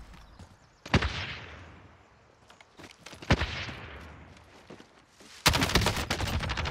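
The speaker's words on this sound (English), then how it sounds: "Still getting shot from the window." Gunfire in Call of Duty Warzone, Modern Warfare Season 5: sharp bursts of shots crack at intervals, with a rapid sustained volley near the end, over quieter ambient game noise.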